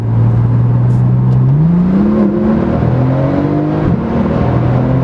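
A 2014 Porsche 911 Turbo S (991) engine pulls hard while driving, its tone climbing steadily through the gears in a loud, continuous drone with shifting pitch and no talking.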